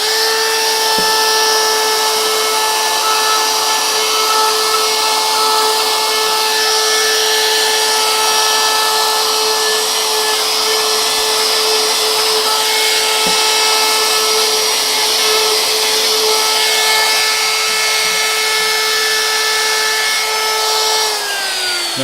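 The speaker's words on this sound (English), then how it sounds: "I'm going to turn the trimmer on." A trimmer router cuts wood, its steady high-pitched whine running loud and continuous for the whole stretch with no talking over it.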